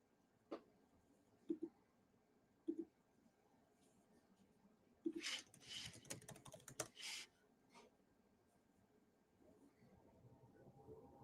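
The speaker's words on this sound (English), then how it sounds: "I'm going to stop typing right now." Computer keyboard typing, quiet and close, in scattered taps and then a short dense burst of rapid keystrokes, with faint room sound between.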